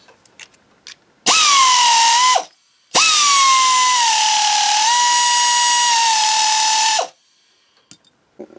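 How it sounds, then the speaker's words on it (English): A cheap Lidl pneumatic nibbler cuts 1mm aluminium sheet in two loud bursts, a short one then a longer one of about four seconds, each a high, whining buzz of rapid punching with a brief silence between. "If you're after a cheap nibbling tool for your air compressor, Lidl have them for 15 quid at the moment."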